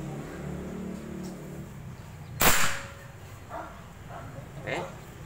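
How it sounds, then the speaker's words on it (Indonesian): An air rifle fires a JSB Exact Monster diabolo pellet at a clay target below, one sharp loud crack near the middle with a brief ringing tail, followed by faint scattered impacts and light background noise. "kita tembak clay yang di bawah"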